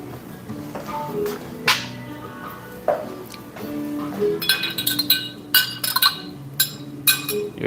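Spoon stirring a drink in a glass, a series of bright clinks and rattles against the glass that grow busier toward the end, close and clear with no talk.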